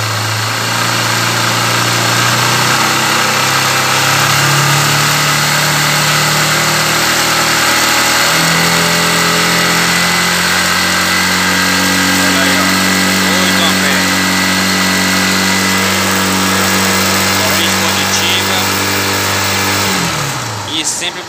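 A Honda CG 150 Sport motorcycle engine runs close by, idling and then revving higher with a steady, loud buzzing tone that drops back down near the end, with someone talking over it.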